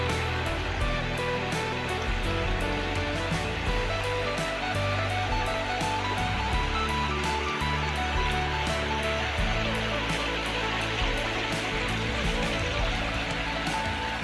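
A forest waterfall pours in a steady, loud, unbroken rush that fills the whole stretch, with no talk over it.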